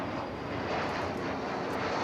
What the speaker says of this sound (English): It's American Airlines flight 2927 from Tucson, Arizona, an Airbus A321.